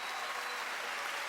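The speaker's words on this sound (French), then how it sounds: "une bonne main d'applaudissements pour le fabuleux trio Luc Merville" Brief burst of dense applause from a comedy gala audience for a musical trio, steady and close, with no talk.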